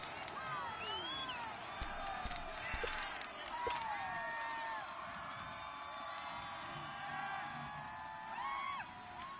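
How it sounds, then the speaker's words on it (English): A stadium crowd in an American football video game keeps up a roar of cheering, whoops and shouts with rising and falling peaks, all under a constant wash of crowd noise. "The crowd's not doing that O-line any favors."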